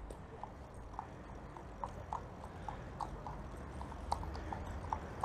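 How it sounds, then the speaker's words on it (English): Horse hooves clip-clopping at a steady walking rhythm on hard ground at a fairground event, with a low crowd murmur around them. "And that's a horse."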